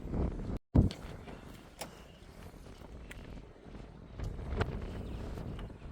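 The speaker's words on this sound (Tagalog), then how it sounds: "Grabe ang hangin dito." Strong wind buffets the microphone outdoors in Melbourne, a rough steady rumble with gusts and a few faint knocks.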